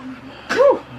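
A child sneezes once in a dusty spot, a short, sharp burst standing out close and clear against quiet background murmur.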